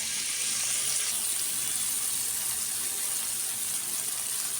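Onions with turmeric and chili powder sizzle in hot oil after a splash of water goes in, a soft, even hiss that carries on quietly throughout.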